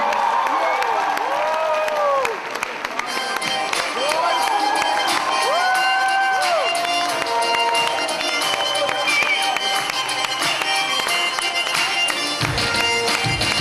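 An audience at an anti-drug concert event cheers and applauds loudly as two performers take the stage, with shrill whoops and rising shouts over continuous clapping, then a denser wall of applause.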